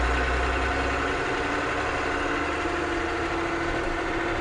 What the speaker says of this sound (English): There's a pretty serious whine coming from the back.